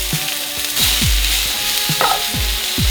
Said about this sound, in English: I'm gonna add the shallots and the apple right to the skillet.